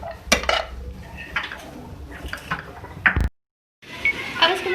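Moong dal samosa filling being stirred with lemon juice in a pot, a spoon clinking and scraping against metal in close, uneven strokes, with a short silent gap before the scraping resumes.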